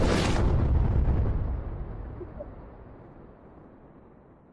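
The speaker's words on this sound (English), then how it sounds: "I'm giving him a little explosion because he's on fire today." A single loud explosion sound effect bursts at once, then its deep rumbling tail decays slowly over several seconds.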